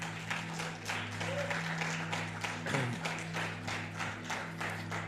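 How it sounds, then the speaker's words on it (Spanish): Church congregation applauding together, a steady broad wash of clapping sustained throughout with faint voices mixed underneath. "Dele un aplauso al Señor si se lo va a dar."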